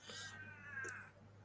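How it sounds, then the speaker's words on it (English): A cat gives one drawn-out, wavering meow, fairly faint and somewhat distant, over a low steady hum. "Was that cat?"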